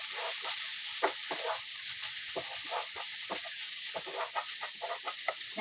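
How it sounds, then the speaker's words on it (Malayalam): Onions with coriander powder are stirred in a pan for chicken roast, a soft sizzling hiss with irregular scraping strokes of a spatula, close but fairly quiet, with no talk. "എന്നിട്ട് നന്നായി നമുക്ക് മിക്സ് ചെയ്യാം."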